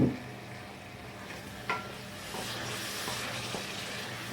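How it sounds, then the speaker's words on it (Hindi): Chicken frying in a pan with garlic ginger paste for white chicken karahi, a soft steady sizzle with occasional scrapes and stirs, fairly quiet and close. "थोड़ी देर चिकन को इसके साथ हम पकने देंगे ताकि जो चिकन है उसका भी हल्का सा कलर आ जाए।"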